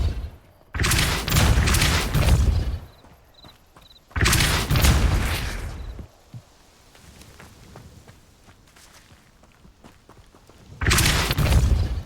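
Depulso force spell cast in Hogwarts Legacy, with three loud, booming bursts, each lasting a couple of seconds and separated by quieter gaps.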